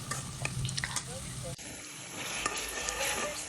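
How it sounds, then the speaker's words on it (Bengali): Mixed vegetables frying with salt in a pan for a wedding-style curry, a steady sizzle with scraping stirring strokes and clinks throughout, fairly quiet and close. "আমি একসাথে ভেজে কষিয়ে নিব। তো এর মধ্যে আমি একটু লবণ দিয়ে দিয়েছি। তো এই তো আমি ভালো মতো নেড়ে নিচ্ছি"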